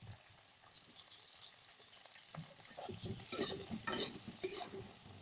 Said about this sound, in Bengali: কড়াইয়ে সর্ষের তেল গরম করে ফোড়নে দিলাম জিরে আর দিয়ে দিলাম ঝিঙে